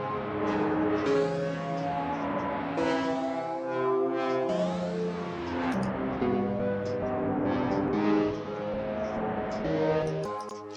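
A trap beat plays dry, without any gating or stutter effect, steady tonal synth and bass layers repeating in a continuous loop at moderate volume with no voices.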